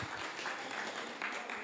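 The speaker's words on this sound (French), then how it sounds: "Il faut vraiment l'applaudir, c'est lui qui l'a fait." Faint, distant applause from a church gathering in Congénies clapping for Martial, a soft continuous patter of hands with no clear voices.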